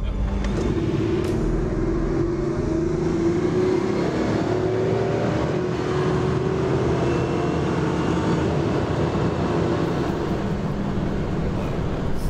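A Bugatti Veyron 16.4 Super Sport engine roars steadily from inside the cabin at full throttle, a deep rising drone of hard acceleration with rumbling road noise throughout.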